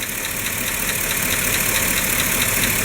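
A Chevy Silverado with the 5.3 engine idles loudly and steadily, with a fast regular lifter tick running over the drone from up close.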